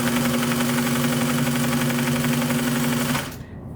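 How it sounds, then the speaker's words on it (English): Sewing machine stitching welt onto chair upholstery, a steady close mechanical hum with rapid even needle rhythm running continuously, then stopping abruptly near the end. "once you've grown confidence in sewing with your machine, don't be afraid to let that presser foot do all the work"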